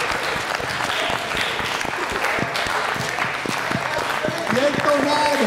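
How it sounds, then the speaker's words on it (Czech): A big crowd applauds at a sporting parade as a national team marches in, the clapping steady and somewhat distant beneath a commentator's voice. "Ohromný potlesk."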